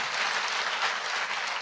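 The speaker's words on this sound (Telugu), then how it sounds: "చప్పట్లు బాగా కొడితే హార్ట్ స్ట్రోకులు రావంట" A congregation claps its hands together in a dense, continuous burst of applause, fairly loud and even, with no voices standing out.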